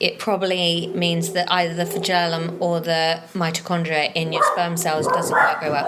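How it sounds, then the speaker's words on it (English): A dog barking at the postman: a few sharp barks and yips come through in the background while a person keeps talking over them. "Sorry about the dog noise there."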